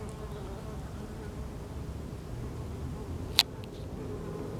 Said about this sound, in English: You still hear that little bee humming.